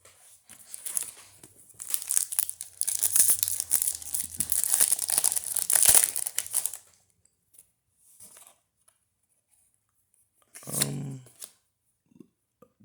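Yu-Gi-Oh Ancient Guardians booster pack wrappers being torn open, a close, loud run of crinkling and ripping foil lasting several seconds, followed by quieter rustles and a short sharp tear.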